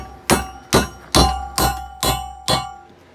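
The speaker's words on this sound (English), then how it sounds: "So what I'm doing is just going at it with a dull wood chisel and a hammer and kind of breaking it free." A hammer drives a dull wood chisel into the welded seam of square steel tubing: six sharp, ringing metallic strikes at an even pace, about one every half second, each with a brief clanging decay, close and clear with no talk.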